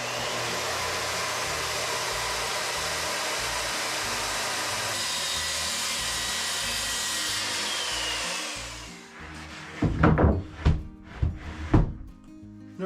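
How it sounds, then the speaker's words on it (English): A saw cuts wood for a workbench top, a steady loud grinding whine for about nine seconds that cuts off, followed by several sharp knocks and clunks of wood being handled. "I think I can definitely cut this one with the saw"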